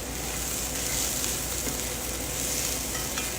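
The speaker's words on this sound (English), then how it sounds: "We're gonna add this. We're gonna give this a stir" Hydrated rice is stirred into a hot pan, giving a steady, close, dense sizzle with faint scraping of the stirring underneath.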